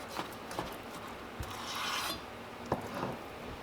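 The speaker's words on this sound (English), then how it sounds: "I'm just going to take my nice sharp knife and cut these into little strips like so" A sharp knife slices raw chicken into small strips on a board, giving a few soft, scattered scraping cuts with light taps at close range and no speech.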